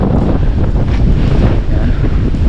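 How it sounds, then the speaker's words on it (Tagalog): Strong wind blasts straight into the microphone outdoors, a loud, unbroken rumbling roar that fills everything from start to finish, with no voices. "Lakas ng hangin."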